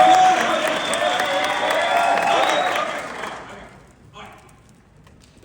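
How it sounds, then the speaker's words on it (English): Audience at a magic convention gives a round of applause, loud mixed clapping with some cheering that holds steady for about three seconds, then fades out quickly into near silence. "So if I can get a 4 out of 10 round of applause"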